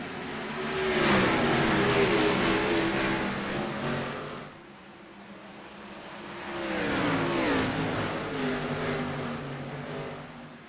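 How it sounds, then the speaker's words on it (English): USA Pro Cup Series race cars accelerate at the green flag in two loud, rising waves of revving engines sweeping past, each surging, then fading, with no talk over them. "Pace car off, Finmore on the gas, green flag flies."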